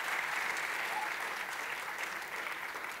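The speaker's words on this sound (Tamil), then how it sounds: "ஒரு நிமிஷம் ஒரு பலத்தை கைத்தட்டு கொடுக்கலாம்" Audience applause at a Tamil event honouring Swaminathan, a steady, moderately distant wash of clapping sustained throughout, with no clear voices over it.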